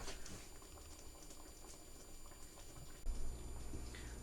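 Turkey meatballs in gravy boil in a pot, a faint, steady bubbling and popping heard close up, with a soft thump near the end.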